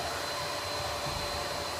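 A hair dryer blows steadily after wax has been applied to styled hair. Its even, close whooshing airflow with a motor whine runs unbroken throughout, with no talking.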